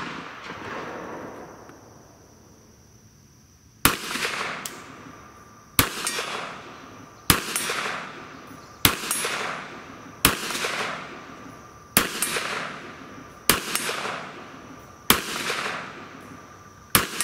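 A Kel-Tec PMR30 .22 Magnum pistol fires nine sharp, loud shots at a steady, fairly quick pace, each crack followed by a short ringing decay, after a few seconds of quiet outdoor ambience.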